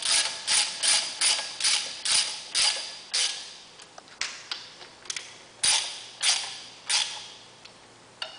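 A bolt is tightened into an aluminium thread while fitting an electric motor, giving a close, rhythmic run of ratcheting clicks in short bursts, about one or two per second, with no talking.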